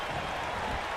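Crowd cheering in the WWE 2K19 wrestling game, a steady wash of arena noise and applause, dense and continuous without distinct voices.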